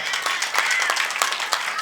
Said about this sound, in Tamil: நல்ல ஒரு கைத்தட்டல் கொடுக்குறான்.